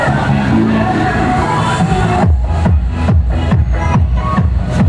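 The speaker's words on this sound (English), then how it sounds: "Loud music." Loud music booming along a busy Cebu City street in the Philippines, steady thumping bass beats under a dense crowd murmur, close and continuous throughout.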